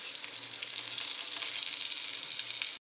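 Green chillies frying for masala mirchi crackle with a soft, steady sizzle and a low hum under it, quiet and continuous until it cuts off abruptly with no talking.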